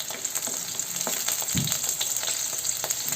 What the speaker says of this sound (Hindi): एमे हम राखि देबै ई प्याज, एक नंबर प्याज लेने छी। प्याज के भूज लेबै।